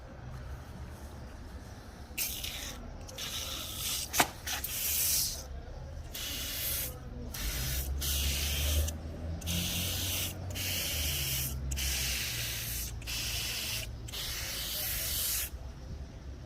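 Grill cleaner sprayed onto aluminium car wheels stained by rusted brake rotors, heard as a series of steady hissing aerosol bursts separated by short pauses, close and fairly loud, with no talk.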